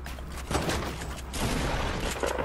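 Rapid bursts of gunfire from a Fortnite 1v1 match, several clustered shots and booms at moderate level with a dense rumbling backdrop and no speech.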